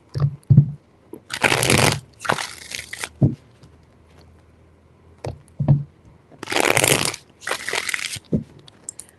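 Tarot cards shuffled in bursts, two long riffling passes separated by sharp taps and knocks of the deck, close and clear with no talking.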